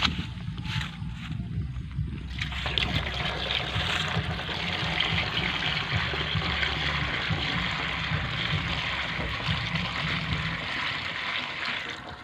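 Water is drawn from a source in a rice paddy to fill a pesticide sprayer. A steady rushing, trickling flow runs continuously and fairly close after a quieter first two seconds, with wind buffeting the microphone and no talking.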